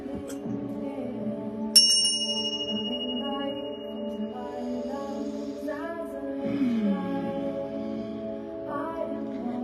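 A single bell is struck once with a sharp bright ring that decays slowly, sounding over a sustained low droning tone that continues throughout.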